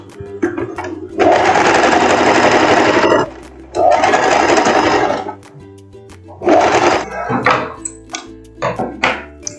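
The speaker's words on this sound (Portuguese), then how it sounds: "a gente tem que passar a costura para fechar o nosso ombro dessa forma" A sewing machine stitching the shoulder seam of a short lace dress runs in loud, close bursts of rapid mechanical whirring, two long runs followed by shorter ones, with brief pauses and clunks between them.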